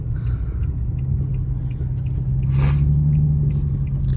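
An Infiniti G37xs drives slowly down a bumpy road, a low steady engine rumble inside the cabin with a short rattling jolt partway through.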